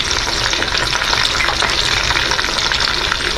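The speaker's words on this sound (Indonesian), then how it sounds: "saya lagi menggoreng lelenya nih" Catfish fries in a pan of hot oil, a loud, dense, continuous sizzle and crackle heard up close with no voices.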